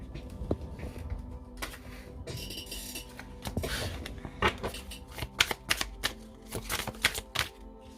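Tarot cards being shuffled by hand in a quiet room, a sequence of crisp riffling and slapping bursts that grow busier and louder toward the end, with no speech.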